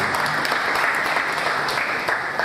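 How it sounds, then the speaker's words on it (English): Steady, close applause from an audience at a Nigerian mobile technology meetup welcoming a guest, a continuous even patter of many hands clapping alone, with no talking. "Can I have a round of applause for him?"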